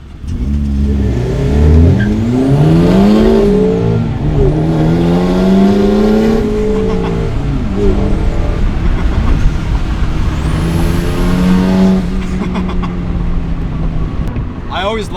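A Mazda ND1 Miata engine revs up and shifts through the gears, loud and close, with rising pitch sweeps cut by brief drops at each shift, repeated several times before settling into steadier cruising.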